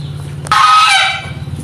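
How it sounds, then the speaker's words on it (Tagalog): A single loud goose honk rings out close by, one short nasal blast over the low steady hum of a rice mill machine. "may gansa"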